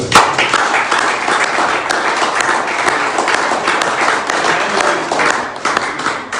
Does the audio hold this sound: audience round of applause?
yes